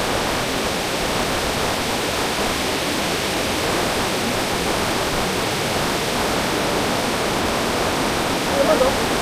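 A waterfall at an eco-tourism area roars as a steady, dense, broadband rush of falling water, loud and close, continuous throughout with no voices standing out.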